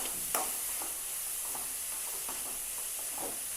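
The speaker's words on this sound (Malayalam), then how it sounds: "ക്യാപ്സിക്കം ചെറുതായിട്ട് അരിഞ്ഞതും കൂടെ ഇട്ട് കൊടുക്കണം നമ്മൾ" Chopped capsicum going into wheat pasta frying in a pan, a steady soft sizzle and hiss with a sharp drop-in at the start and light stirring scrapes scattered through, close and fairly quiet.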